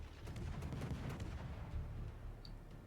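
Cossack destroyer guns in World of Warships pumping out HE shells at a rapid reload, a dense, continuous rumble of overlapping booming shots with no break through the short stretch.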